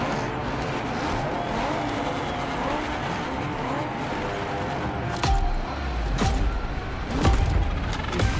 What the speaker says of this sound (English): The Ford Mustang GT Fastback. That's the first one we're going to be driving.